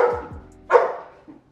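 Doberman dogs barking close by: a short, sharp burst of a few deep barks followed by a brief yelp, with no other sound.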